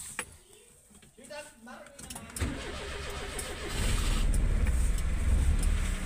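A car engine cranks and catches at about 2.4 seconds, then settles into a loud, steady running rumble that builds after the fourth second. The car is readied for a trip to Nawabshah. Before the start there is a quiet stretch with faint voices.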